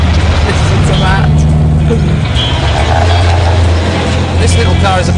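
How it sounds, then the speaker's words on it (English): A classic Austin-Healey Frogeye Sprite sports car's engine and exhaust rumble steadily with a low growl, close and loud throughout, joined by faint voices. "That exhaust note, just such a great sound."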